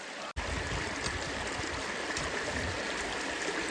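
Waterfall stream in Similipal forest, a steady dense rush of flowing water close by, constant and unbroken after a brief cut at the start.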